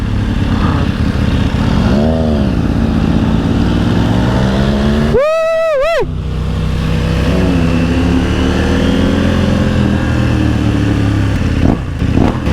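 A KTM 890 Duke R and an MV Agusta Brutale Dragster 800 motorcycle rumble loudly at close range, with throttle blips rising and falling and one sharp high rev in the middle.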